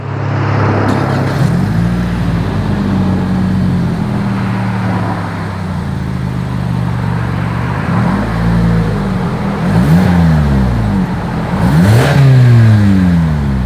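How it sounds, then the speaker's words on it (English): The exhaust of a 2020 Toyota Camry V6 with quad chrome tips revs repeatedly, a steady idle rising into several loud swelling pulls that fall back, the strongest revs coming near the end. "As always, here is that exhaust clip."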